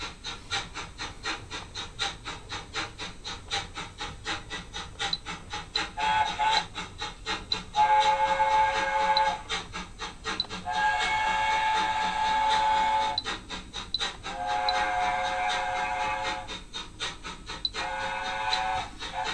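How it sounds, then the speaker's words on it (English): Model railway steam locomotive whistles on a layout, a run of long, short and toot blasts sounding one after another, clear and close, with no talk over them. "So I've got long whistles, short whistles and toot whistles, all on 3 different keys"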